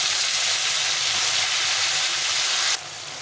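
Chopped tomatoes fry in a pan over cumin seeds already toasted in oil, giving a steady, loud, close sizzle that drops to a softer hiss near the end.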